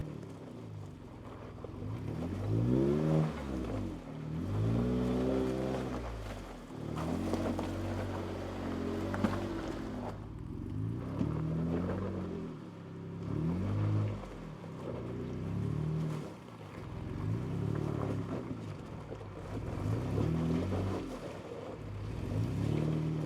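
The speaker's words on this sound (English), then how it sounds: "the low-down grunt of the V6 engine" A Jeep V6 engine grunting off-road in low range, its close, steady drone swelling and easing in repeated revs as the 4x4 crawls over rough terrain.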